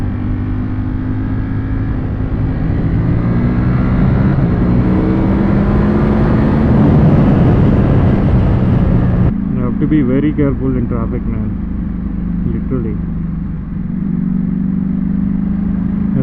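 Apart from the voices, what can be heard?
Ducati V4 motorcycle riding at night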